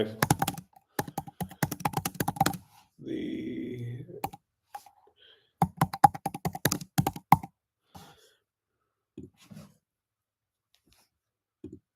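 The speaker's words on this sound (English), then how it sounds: "Let me just type it in here." Typing on a computer keyboard comes through as quick bursts of close key clicks separated by pauses, with a brief rustle between bursts and a few isolated taps near the end.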